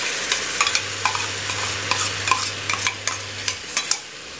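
Ginger-onion paste with green chilli fries in hot butter, stirred briskly so a spoon scrapes and clicks against the pan in quick repeated strokes over a loud, close sizzle, with no talking.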